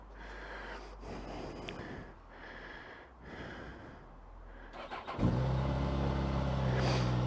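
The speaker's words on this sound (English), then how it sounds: "standard exhaust, which has got quite a nice hum to it" A 2019 Suzuki motorcycle on its standard exhaust starts up partway through and settles into a steady, loud, low idling hum close by, after several seconds of breathy rustling and handling noise.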